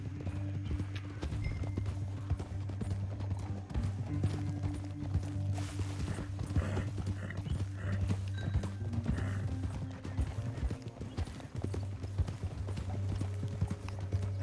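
Horse hooves clip-clop steadily at a riding pace in the Red Dead Redemption 2 game world, with an occasional whinny, continuous over a low ambient hum.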